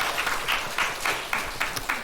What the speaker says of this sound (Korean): 하나님께 감사의 영광의 찬송의 박수를 돌리겠습니다